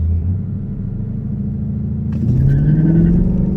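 A 2015 Ford Mustang with a 6R80 automatic rumbles loudly at high idle close by, then launches, its engine note climbing steadily as it accelerates away.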